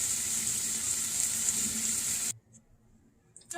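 Meat sizzles steadily and loudly in a frying pan for a couple of seconds, then the hiss cuts off abruptly, leaving near silence with a few faint clinks before a brief return of sizzling noise at the end.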